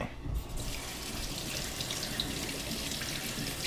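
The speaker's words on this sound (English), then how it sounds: "Rinse hand." Water runs steadily from a kitchen tap into a sink while hands are rinsed of pork juice during rib cooking, a continuous close, even splashing stream.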